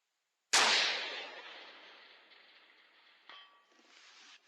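A single sharp report from an F1 Firearms 6.5 Creedmoor rifle fired at a long-range target, a loud crack followed by a long ringing decay, then a faint distant metallic clang of the round striking a steel target.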